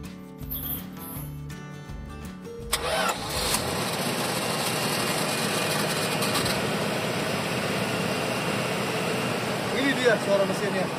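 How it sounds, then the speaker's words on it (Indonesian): A 1973 Dodge pickup engine idles, steady, low, smooth and continuous, after a brief stretch of other noise at the start; close and fairly loud. "langsung aja kita dengerin suara mesinnya"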